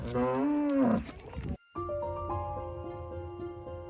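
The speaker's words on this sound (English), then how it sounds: "Each cow has a unique moo, just like we all have different voices." A cow lets out one loud, drawn-out moo up close on a farm, followed after a brief pause by gentle background music.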